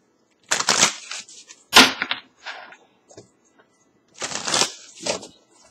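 Oracle cards being shuffled by hand, with several bursts of crisp riffling and flicking close up, separated by short pauses; no talking.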